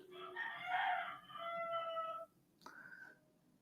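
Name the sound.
roosters crowing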